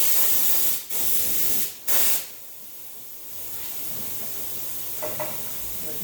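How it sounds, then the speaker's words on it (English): An air bar blows an even stream of air across a print to keep it dust free. It makes a steady broadband hiss, louder in two short bursts at the start, then settling into a constant quieter spray. "This is a system that sprays an even amount of air to keep everything duct free."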